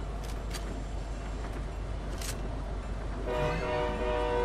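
A train in the video game Fortnite rumbles along steadily with clacking and rolling noise, then a sustained horn or whistle tone joins in near the end, with no talk.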